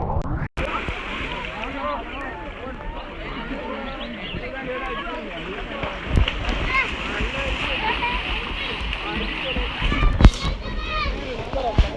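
A dive into a canal crowded with bathers sends up a steady wash of splashing and churning water, loud and close, with voices talking over it throughout and a sharper splash near the end.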